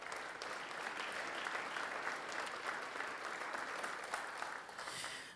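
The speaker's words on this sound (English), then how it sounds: "give them another round of applause for their dedication and hard work" Sustained audience applause at a public safety awards ceremony, a dense even wash of many hands clapping that holds steady throughout at moderate distance with no voices.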